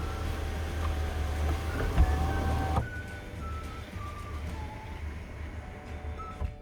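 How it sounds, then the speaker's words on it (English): A one-touch sunroof on a 2021 Hyundai Palisade closes with a faint motorized whir that stops abruptly, followed by a quieter cabin with a soft tonal hum, no talking. "it also has a sunroof as well, which is a nice feature, and it's a one-touch feature. We'll go ahead and close that back up though."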